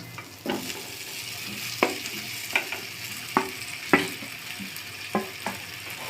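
Pumpkin, fried potatoes and rice with spices stirred together in a pan, a spoon scraping in repeated sharp strokes over a steady low sizzle, close and fairly quiet.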